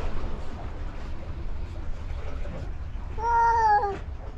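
A steady low rumble of background noise runs for several seconds before one clear, drawn-out cat meow rises near the end, fairly close.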